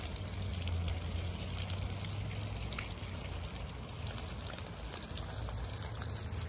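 Water streams steadily onto garden plants, a continuous close trickle and splash that holds even throughout with no talk.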